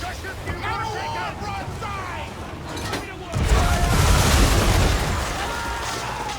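Ship cannons fire in Assassin's Creed III, a booming broadside swelling into heavy roaring rumble after shouted orders from the crew, with wind and sea noise throughout.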